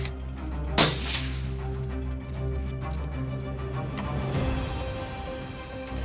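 A rifle shot fired during an impala and waterbuck hunting safari cracks out loud and sharp near the start, followed by a possible fainter report later over a steady low rumble of background noise.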